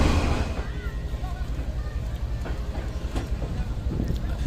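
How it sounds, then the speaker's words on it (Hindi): Shalimar Express passenger train in Pakistan, standing ready to leave from Hyderabad: a loud, steady low rumble of the train with faint metallic clicks, and voices talking over it. "हैदराबाद से अब जाने के लिए हमारी ट्रेन तैयार है।"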